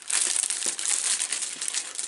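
Plastic packaging bag holding a Hachette Bismarck model-kit issue crinkles and rustles continuously at close range, a dense papery crackle with small sharp crunches scattered throughout and no voices.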